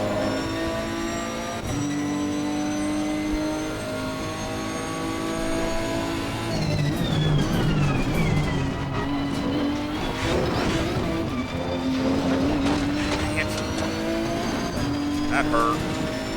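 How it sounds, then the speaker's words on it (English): A Nissan GT-R GT race car with a six-cylinder engine in Assetto Corsa Competizione at Zolder, loud and close, revving and shifting through gears with rising and falling pitch, tire squeal and a brief voice over it. "I think it sounds good for a 6-cylinder."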